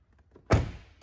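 A GMC Yukon car door swings shut with a single solid thunk, close and loud, after a quiet lead-in with faint rustling, then a short fading tail.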